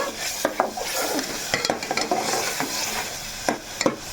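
Raw masala for a chicken and egg curry sizzling and frying in a pan while a spoon stirs it, with scrapes and light clinks against the metal standing out above the steady crackle, no voices.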